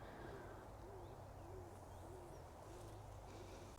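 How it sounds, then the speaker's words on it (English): An owl hoots repeatedly outdoors in a quiet natural setting, its soft low calls recurring at a steady rhythm over a faint constant background hiss, with no talking. "I just love listening to the sound of the birds."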